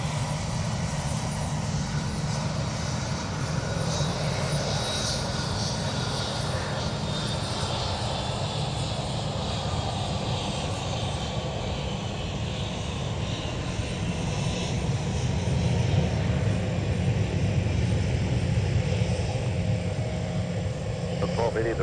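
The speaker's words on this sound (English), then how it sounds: "Listen to those engines." Delta jet airliner engines at MSP airport roar steadily in a loud, sustained drone that swells near the end, with a voice talking over it.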